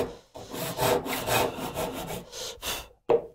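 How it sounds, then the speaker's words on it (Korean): A hand saw cuts wood at a 45-degree angle for a hidden dovetail joint, giving close, steady back-and-forth rasping strokes in an even rhythm with a brief pause near the end. "45도로만 톱질을 해주면 됩니다"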